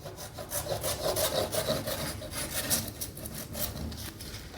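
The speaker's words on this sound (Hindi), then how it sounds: "अब उसके बाद हम इसको फिर से एक बार काट लेंगे।" Scissors cut through folded kite paper, a steady run of close rubbing, rasping snips that continue throughout without any talk.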